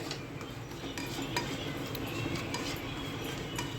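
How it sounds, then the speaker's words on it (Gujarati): A spoon stirs salt into vegetables in a pan, with quiet clinks and scrapes of metal tapping the pan at an irregular pace, close and faint. "આપણે સરસ રીતે મીઠાને મિક્સ કરી લેવાનું છે"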